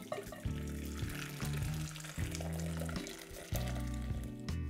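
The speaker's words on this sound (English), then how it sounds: "Our potatoes are nice and tender, so I'm going to pour off the cooking liquid." Cooking liquid is poured off boiled potatoes from a pot, giving close, uneven gushing and splashing in a few surges with no talk.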